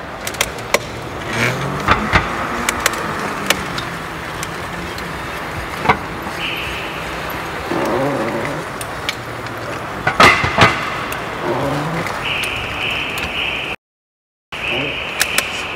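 A Swincar electric off-road vehicle pulls away at full throttle outdoors. Its motor gives a rising whine, and several thumps and knocks are heard as it travels over rough ground.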